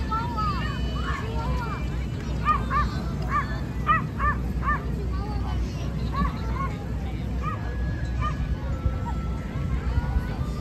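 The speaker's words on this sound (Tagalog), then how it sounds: "tumatahol na aso dun." A very big dog barks in short repeated bursts at a distance in a Texas park, over a constant rumble of background noise and people talking.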